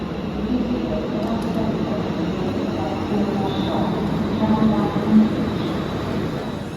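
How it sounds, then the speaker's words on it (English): A London Northwestern Railway class 350 electric unit pulls away from a station, a steady rolling rumble with a faint whine, heard close and even throughout with no voices. "there goes the 12:11 London North Western Railway service to Crewe from Stafford"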